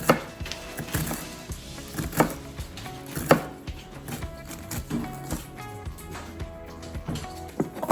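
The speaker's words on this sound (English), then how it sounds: "We're going to cut the onion" An onion being chopped with a knife on a board while cooking a sausage dish in an Instant Pot, heard as irregular wooden knocks and taps at an uneven rhythm, close by.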